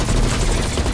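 The sacrifice gun in a Call of Duty game fires a rapid, loud burst, with shots packed densely together for a full second.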